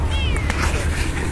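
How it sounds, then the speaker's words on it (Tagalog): Cats meowing close by, a couple of short rising meows over a steady low background hum, with no clear talk. "So andito yung mga pusa."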